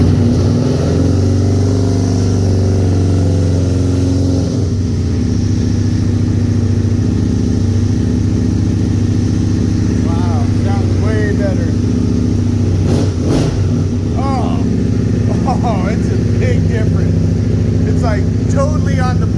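A 2001 Aprilia Futura RST1000 motorcycle engine fitted with an H-pipe exhaust idles with a steady, loud low rumble, with brief rises in pitch as the throttle is blipped and voices talking over it.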